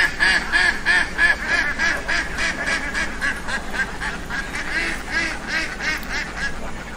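Farm ducks quack close by in a rapid, repeated chorus, loud and steady throughout.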